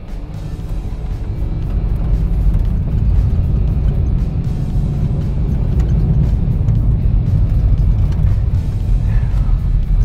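A 2008 Volkswagen Touareg accelerating along a road, with a steady, loud low engine and road rumble that builds slightly and holds throughout, heard from inside the vehicle with no talk.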